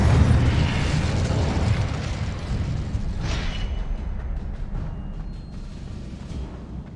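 An Incendio fire spell bursting in Hogwarts Legacy, a loud dense fiery roar that swells at once and then slowly fades over several seconds, with no one talking.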